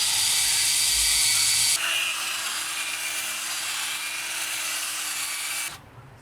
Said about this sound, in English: So you would drill it.